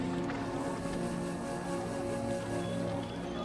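Sea waves at the shore in Rameswaram make a steady, unbroken wash of surf, with no voices.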